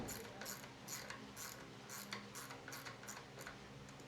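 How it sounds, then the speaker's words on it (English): Hose clamp on a Harley-Davidson Sportster oil line being snugged up, a quick series of about a dozen close, faint ratcheting clicks at an even rhythm, with no speech. "Snug that hose clamp back up,"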